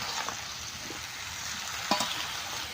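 Vegetables sizzling in a pan on a clay stove, a steady close frying hiss with occasional scraping stirs and a sharper clatter near the end, no voices.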